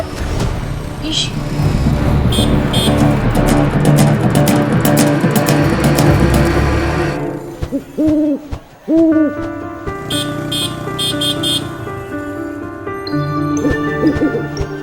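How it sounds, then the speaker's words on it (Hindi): An owl hoots in a spooky scene, giving two distinct, fairly loud hoots midway through over steady background music, with other sounds and voices around them. "देखो ना मीरा माँ, ये उल्लू हमारे पास आया है।"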